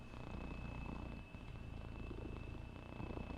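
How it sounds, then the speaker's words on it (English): A pet cat purrs steadily and close, a continuous soft rumbling drone that fills the moment with no other sounds over it. "Everybody here are your purrs"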